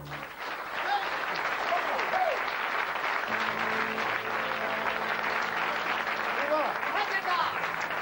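A New Year's Eve audience breaks into sustained, dense applause after a lively Hungarian party song, loud and steady throughout with faint voices and cheers mixed in.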